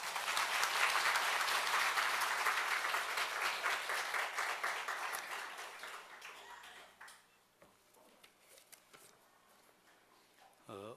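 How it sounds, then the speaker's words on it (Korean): A church congregation claps in welcome for a visiting pastor at a Sunday worship service with a cantata: dense, loud applause for about six seconds, then thinning to scattered claps and fading into quiet room noise. "우리 나오실 때 환영의 박수로 맞아주시면 감사하겠습니다."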